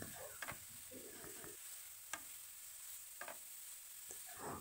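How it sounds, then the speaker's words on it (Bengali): Grated carrots stirred in ghee on a low flame, soft scraping strokes against the pan over a faint, quiet sizzle, with a few distinct stirring clatters spaced apart. "গাজরটা দেওয়া হয়ে গেলে বেশ কিছুক্ষণ আমাদের ওই ঘিয়ের মধ্যে নাড়তে হবে।"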